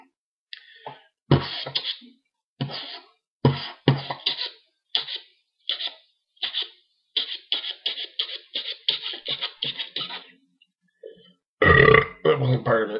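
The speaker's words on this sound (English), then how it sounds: "That wasn't part of it. That was a burp." A loud, drawn-out burp erupts near the end, after a long run of short clicking, scratchy bursts from a voice or mouth close to the microphone.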